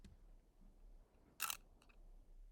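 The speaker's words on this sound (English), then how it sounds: "this is the shutter from Elevenlabs" A single sharp AI-generated camera shutter click, brief and crisp, followed by a faint mechanical tick against quiet room tone.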